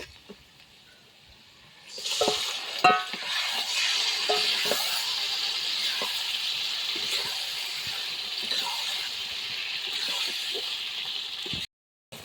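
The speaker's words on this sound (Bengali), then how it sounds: "ভাজা হয়ে গেছে, এবারে মাংসটা দিয়ে দেবো।" Pieces of mutton hit a pan of fried onions and spices and then sizzle steadily in oil for a Bengali curry. A quieter start gives way to a sustained close hiss with scattered stirring clicks.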